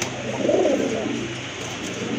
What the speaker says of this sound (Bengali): আরেক জোড়া কবুতর, এটা কিন্তু ছিলা কবুতর, খুবই চমৎকার